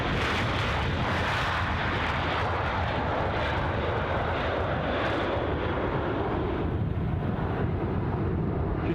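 A Boeing 737 at Edinburgh Airport on a windy day fills the whole stretch with a loud, continuous jet engine roar, broad and steady with no talking.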